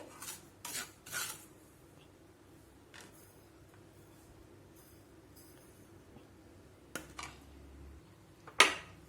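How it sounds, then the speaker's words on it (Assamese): Fried semolina scooped from a pan into a bowl, with scattered metallic scrapes and clinks of a spoon against cookware, a few sharp knocks, then quiet gaps between. "এতিয়া মই চুজিখিনিও বাতিটোত উলিয়াই লওঁ"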